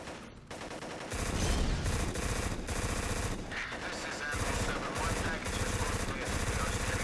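Rapid Uzi gunfire in the shooter video game Black, sustained automatic bursts that are loud and dense, running almost continuously after a brief quiet opening, with no speech over them.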